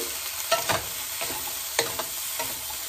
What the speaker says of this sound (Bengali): হাফ ইঞ্চি মতন আদা দিয়ে ভালো করে নেড়ে চেড়ে